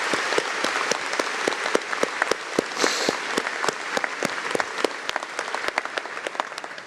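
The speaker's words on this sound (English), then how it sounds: "Now you can clap, please." An audience at a university welcome ceremony breaks into steady, dense applause. It holds at an even level for several seconds, with sharp individual claps standing out in the crowd.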